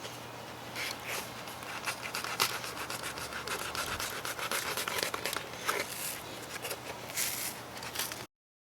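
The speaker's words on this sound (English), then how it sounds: "Now that the foam is set, we just have to cut away the excess" A blade saws and scrapes through set expanding foam around a basement window in brick masonry, giving a continuous close, crinkly, scratchy rasp with uneven strokes.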